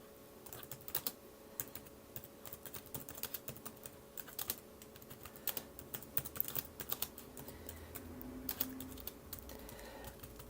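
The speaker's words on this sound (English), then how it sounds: "You can type pretty fast on this. And it keeps up" Rapid, fast typing on a tablet keyboard, with light, soft key taps in a steady stream. The taps are close and fairly quiet, and there is no talking.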